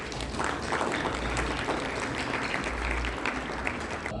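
An audience at a Sir Syed Day celebration applauds a consulate official as he is welcomed to the podium, a soft, even round of many hands clapping in a hall, heard from a distance without talk.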